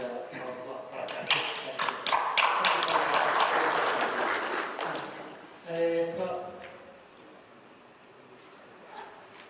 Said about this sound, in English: Let's give us again our round of applause